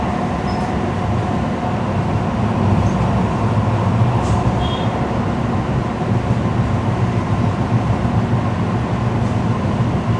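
Expo Line light rail train cruising at around 35 to 38 mph, a steady loud rumble and rail roar heard from aboard, with a few faint squeals and no speech.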